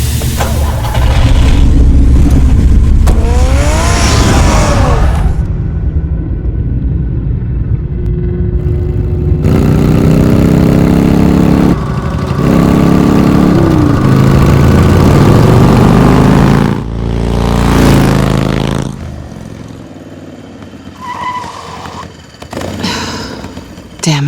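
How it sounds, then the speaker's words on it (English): A car engine in Batman: The Telltale Series rumbles and idles at mid pitch, loud and steady with surges, mixed with music and other game sounds across most of the stretch. "Get the car ready, Alfred."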